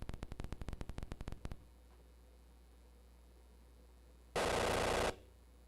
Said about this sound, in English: when you set dynamite, it's got a nice little explosion sound.